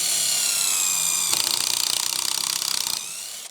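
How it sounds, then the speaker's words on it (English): A power drill drives a screw into wood while a shelf is built. A high, steady motor whine gives way to a rapid ratcheting clatter near the end, then stops abruptly, close and loud. "Screw all the way down."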